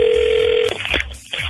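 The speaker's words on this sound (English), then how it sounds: "It's ringing. Hang on." Over a phone line, a steady ringback tone sounds loudly for well under a second, then cuts off into muffled line noise and clicks.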